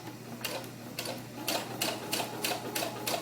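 A sewing machine stitches a doll tunic in a straight seam, sounding as loud rhythmic bursts of rapid clatter that start and stop over a steady motor hum.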